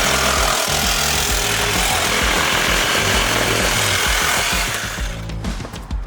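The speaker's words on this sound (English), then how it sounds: "Sawzall's a little bit more jiggy going in." A Sawzall reciprocating saw cuts through pipe in a mechanical room, its loud, rapid buzzing chatter running steadily before easing off at the end of the cut.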